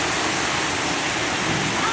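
Water splashing and pouring inside a waterfall, a dense, loud, continuous broadband rush heard up close with no pauses.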